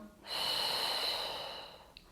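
A single long, close inhale through the nose lasts over a second during a pregnancy exercise with the hips pushed back, fading gently at the end, with no talk.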